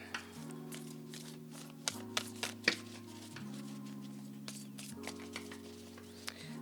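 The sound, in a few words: tarot cards being shuffled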